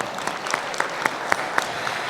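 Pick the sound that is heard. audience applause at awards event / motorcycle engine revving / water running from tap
audience applause at awards event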